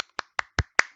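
Five sharp, evenly spaced claps, close and dry, each a short isolated burst with silence between, no voices.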